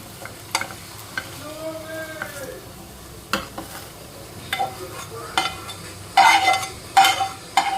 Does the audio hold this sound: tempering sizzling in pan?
yes